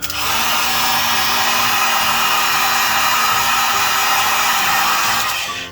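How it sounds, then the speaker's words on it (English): A heat gun blows a loud, steady roar as it heat seals closed cell foam for a giant D20 prop, running continuously with no talking. "We take our heat gun,"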